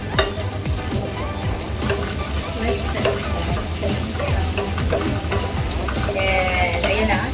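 Onion sautéing with golden-brown garlic in a pan gives a loud, continuous sizzle and crackle, with scraping and stirring noises throughout.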